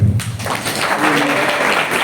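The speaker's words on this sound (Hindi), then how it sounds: "मैं चाहूंगा तो प्रभु यीशु मसीह के लिए ताली बजाइए।" A church congregation claps for Jesus Christ during a sermon, a dense burst of applause that fills the room for a couple of seconds with a low hum of voices underneath.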